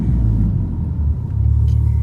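A deep, steady exhaust rumble from a Volkswagen Golf R MK7.5 with an AWE SwitchPath catback exhaust idling close by, low and throaty, holding evenly for a couple of seconds with no voices.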